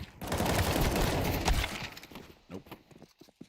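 Gunfire in a video game such as CS2 or BF6: a dense, loud burst of rapid shots lasting a couple of seconds, then scattered sharper reports and thuds as it tapers off.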